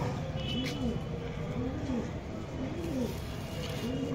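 Pigeons in a loft, Pakistani breed, give repeated soft throaty coos that roll in a steady rhythm close by, with someone talking faintly in the background.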